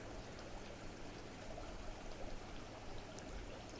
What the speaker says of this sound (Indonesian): Ini dikucurkan airnya, sementara juga nanti ada saluran pembuangannya.